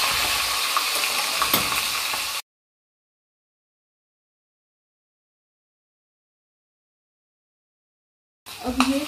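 Cumin and green chilies sizzle loudly in hot oil for about two seconds, then silence, with the frying crackle briefly returning at the end.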